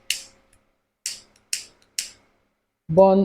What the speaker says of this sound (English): I will use my lighter and burn